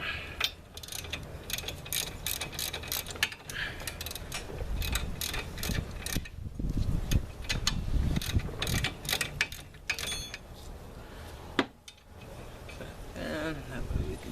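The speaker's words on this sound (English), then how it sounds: "we'll just use the ratchet, regular ratchet" A regular ratchet wrench clicks in quick repeated bursts while loosening bolts during an engine replacement on a 2005 Nissan Sentra, close up with metallic rattles, and someone speaks at times over the work.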